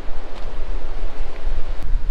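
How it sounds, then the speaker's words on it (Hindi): Chandra river rushing near its confluence with the Bhaga at Tandi in Lahaul Valley, heard as a steady, broadband roar of flowing water with wind buffeting the microphone throughout. "ये है चंद्र नदी"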